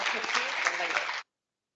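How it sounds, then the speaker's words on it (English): A round of applause at a Bellevue School District board meeting, a brief, even patter of clapping from a modest room that lasts just over a second before cutting off abruptly. "let's give a round of applause to our former president, Seema Seraphin."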